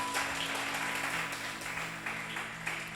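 A church congregation applauds during an evening service, a soft, even wash of clapping from a large room that holds steady, with a low sustained hum beneath.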